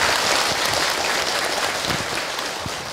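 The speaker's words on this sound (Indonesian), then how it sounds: "Tepuk tangan atau buat bunda semua." An audience at an Islamic religious talk claps for the mothers present, a brief dense burst of applause that stays loud and steady with no talk over it.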